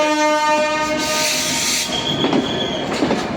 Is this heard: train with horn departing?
yes